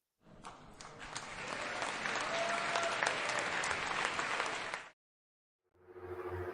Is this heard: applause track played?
yes